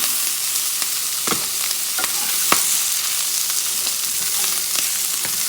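Steamed shrimp sizzle in a pan, a dense, steady frying hiss up close, broken by occasional spatula scrapes and clicks as they are stirred.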